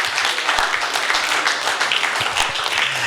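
Church congregation clapping hands in thanks during a sermon, a dense, even round of applause at moderate loudness with faint low hum beneath.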